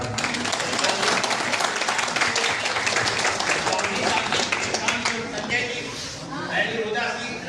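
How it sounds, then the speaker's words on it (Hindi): Audience applause at an honouring ceremony, steady dense clapping filling the room and continuing throughout, with a speaker's voice partly heard over it. "ताली बजाएं आप लोग जरा।"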